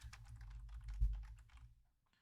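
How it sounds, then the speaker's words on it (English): Quick, close clicking keystrokes from a computer keyboard being typed on, running steadily for about two seconds over a low hum before stopping, with a lone click near the end. "and I need to type something here."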